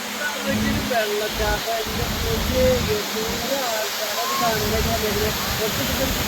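A steady roar of rushing water from a waterfall fills the clip, broad and constant, with scattered bird calls and voices faint underneath.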